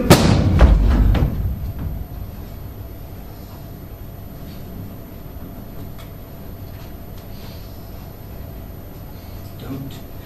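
A gunshot fired indoors rings out in a loud opening blast with a few sharp follow-up thumps, then fades into a quiet, steady room tone.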